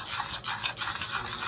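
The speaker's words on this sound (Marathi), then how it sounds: "थंड होईपर्यंत ढवळत राहायचं." A spoon scrapes and stirs a thick sesame and jaggery tilgul mixture in a pan, giving a quiet, continuous rasping with soft rhythmic strokes and no talking.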